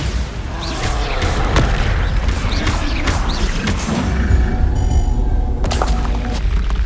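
A Bombarda spell explosion in the video game Hogwarts Legacy, heavy booming blasts rolling through a loud, sustained game soundscape with metallic mechanical clatter and no talk.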